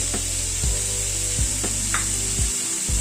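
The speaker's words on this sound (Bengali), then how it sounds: "চিকেনটা মশলার সাথে এবার একটু কষিয়ে নেব।" Chicken pieces frying in a pan with spices, the steady sizzle broken by several heavy scraping stirs of a spatula against the pan, close and fairly loud with no talking.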